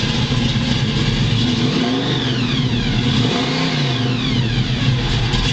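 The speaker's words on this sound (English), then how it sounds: "Listen to that exhaust." A 750 hp V8 in a 1969 Chevrolet Camaro SS revs up through a rumbling exhaust, the pitch climbing and dropping twice over a deep idle, loud and close.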